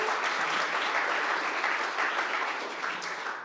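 Applause at a tech community conference welcome session, a room full of people clapping in a dense steady patter that tapers off slightly toward the end.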